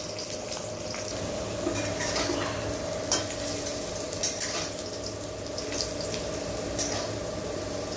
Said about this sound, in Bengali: উচ্ছে ভাজার সময় আমি সামান্য একটু লবণ দিয়েছি।